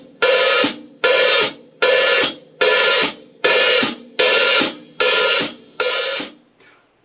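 Hi-hat struck with the cymbals wide open, then clamped shut by the foot pedal, repeated eight times in a steady pulse: a loud bright wash of sizzle that cuts off sharply each time, close and alone.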